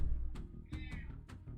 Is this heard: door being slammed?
no